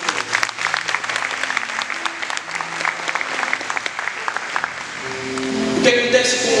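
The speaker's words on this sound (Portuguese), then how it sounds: "Dá uma salva de palmas para essa palavra." A church congregation gives a round of applause, dense clapping sustained for several seconds with faint voices underneath and a brighter, swelling burst near the end.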